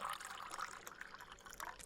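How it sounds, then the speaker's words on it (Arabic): Water pours into a cup in a barista simulator game, a soft, steady trickling fill at low volume with faint splashy variation throughout. "كمل الميه دي كلها"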